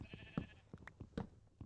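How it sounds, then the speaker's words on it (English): A sheep bleats close by in several short, quavering calls with brief pauses between them, fairly quiet and without talk. "Hello, sheep."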